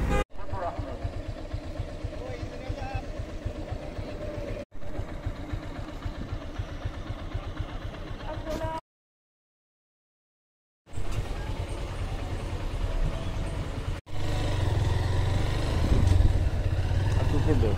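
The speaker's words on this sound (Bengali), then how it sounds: "সো বাইকে চলছে, বেশি স্পিডে না।" A Honda motorcycle rides at moderate speed through a village, its steady engine drone and road rumble running loud and close with wind noise, cut by a brief gap of silence partway through.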